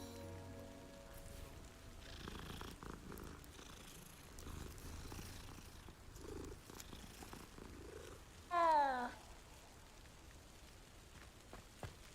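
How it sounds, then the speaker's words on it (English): A cat purrs softly as it is petted in the video game Hogwarts Legacy, a faint low rumble under light rain-like patter, broken by a brief louder chirpy cat call near the end. "Pet the cat."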